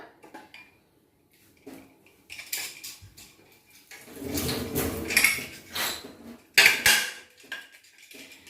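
Metal clanks and scrapes of a pressure cooker lid with its rubber washer being fitted and closed over a pot of rice, a few sharp close knocks and a sliding rasp between quiet gaps.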